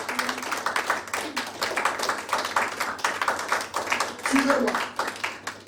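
A church congregation clapping in praise during a French-language service, a brisk run of rhythmic handclaps heard under someone speaking.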